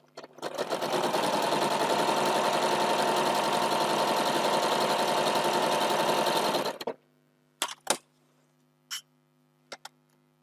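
Sewing machine stitching a quilt block seam, a close, loud steady whir for about six seconds, then stopping, followed by a few soft clicks and taps as the fabric is handled.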